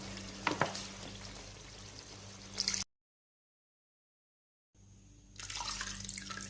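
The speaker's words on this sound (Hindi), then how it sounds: "आप इसके अंदर शामिल कर देते हैं शोरबे के लिए पानी" Mutton sizzles steadily in a pan, then the sound cuts out briefly before a hiss of frying returns and swells as water is poured in for curry broth.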